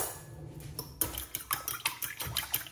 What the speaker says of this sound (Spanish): Vamos a batir esta mezcla.